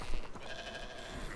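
A goat bleats in a video game, giving one short wavering bleat that is fairly faint under game ambience.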